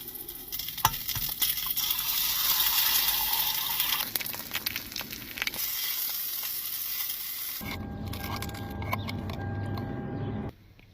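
Breakfast sizzles and fries in a pan in a grocery store car park, a steady close crackle with brief clinks of utensils stirring, ending in a quieter stretch with faint background hum.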